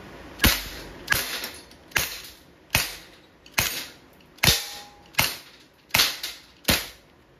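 A Beretta PX4 Storm pellet pistol fires lead pellets in eight sharp, close cracks spaced roughly evenly about once per second, each snapping loud and decaying quickly, with no talking.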